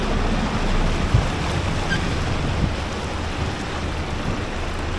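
Anderson Falls, fed by the Anderson Glacier in Alaska, roars as a continuous broadband rush of falling water, mixed with wind buffeting the microphone and occasional low thumps.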